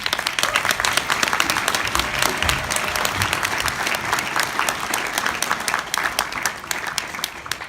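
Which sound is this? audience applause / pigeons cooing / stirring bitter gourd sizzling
audience applause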